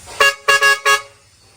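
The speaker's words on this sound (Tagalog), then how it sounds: "Parinig natin kay Bossing para may idea siya sa tunog ng dual trumpet." Four loud, blaring honks from a Jet Inoue dual trumpet car horn, a short toot then three longer blasts with a bright brassy two-tone sound, close by with no talking.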